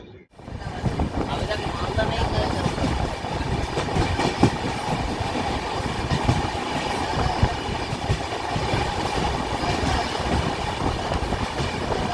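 A Guwahati-to-Kolkata express train running on rails toward Malda Town Junction, a loud, continuous rumble with rhythmic wheel clatter heard from inside the carriage, with faint voices.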